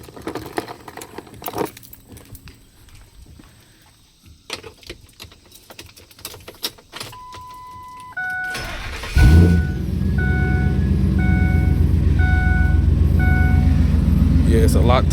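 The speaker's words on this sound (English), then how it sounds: "Turn the truck on." Ford Excursion with a 6.0 diesel: quiet cabin clicks and key jingle, warning chimes, then the starter cranks and the engine fires and settles into a loud steady idle, with a voice talking over it.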